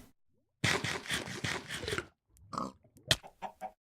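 Chickens in Minecraft cluck in a quick burst of clipped game calls, followed by a few scattered shorter clucks, close and clear against silence.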